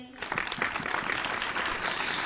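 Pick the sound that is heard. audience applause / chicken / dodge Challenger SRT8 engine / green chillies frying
audience applause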